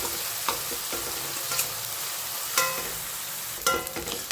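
Chopped onions fry in a pan over a gas flame with a constant close sizzle, broken by a few sharp scraping stirs from a spoon against the pan.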